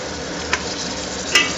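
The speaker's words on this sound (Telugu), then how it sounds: "జీడిపప్పు కూడా వేసేస్తున్నాం అన్నమాట. వేసి ఈ విధంగా ఫ్రై చేస్తాం." Cashews fry in a pan of oil for fried rice, giving a steady close sizzle with two quick clinks of stirring.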